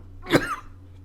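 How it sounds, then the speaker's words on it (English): A single sharp cough, close and fairly loud, bursting out once and then fading into quiet room tone with a low hum underneath. "Cough into your hand and clap it."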